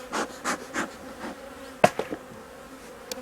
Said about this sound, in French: Je fais attention bien sûr de ne pas tuer les abeilles